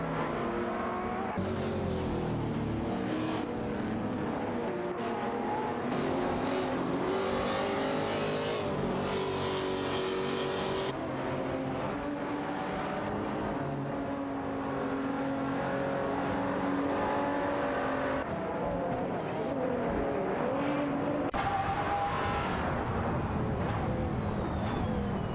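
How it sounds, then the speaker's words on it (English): Race cars including a McLaren 540C and a Lamborghini Murcielago SV in a racing video game, engines revving and shifting through rising and falling gears over a continuous moderate roar for the full stretch. "Neo Texan in the McLaren 540C and Cedric are currently battling it out with Milgus 77 in the Lamborghini Murcielago SV for the 12th position."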